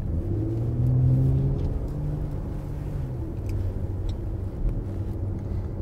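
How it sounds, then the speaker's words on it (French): A Porsche Panamera hybrid's engine hums and rumbles from inside the cabin while driving, a low steady drone with gentle rises in pitch as it pulls, alone without talk. "C'est vrai que la sonorité du moteur, c'est quand même toujours très agréable."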